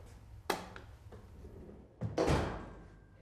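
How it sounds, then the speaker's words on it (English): A drawer on a computer-controlled secure storage cabinet slides shut, with a soft knock early on and then a louder closing thud near the end, heard close up with no talk. "To finish, simply close the drawer."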